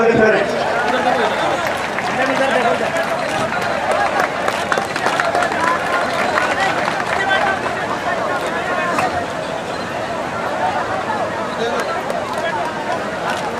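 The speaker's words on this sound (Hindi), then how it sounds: "आप तालियां बजा के जोरदार स्वागत करें।" A large crowd at an outdoor memorial statue unveiling ceremony applauds continuously, a dense wash of clapping and crowd noise held at steady loudness throughout.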